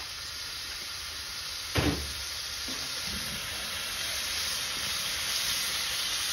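Oyster sauce goes into minced pork stir-frying in a hot pan for Thai basil pork, giving a steady hiss and sizzle with a brief louder splash as it lands.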